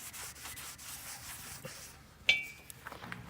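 Cloth rag rubbing and wiping over the engine of a 2000 Chevrolet Monte Carlo, soft and close. Scrubbing strokes are followed by one sharp clink partway through, with no talk.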